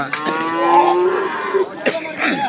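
Cattle lowing at a livestock market in Anthiyur, with long harmonic moos from native cows carrying over a crowded, noisy background; one sustained call followed by shorter ones, fairly loud and close.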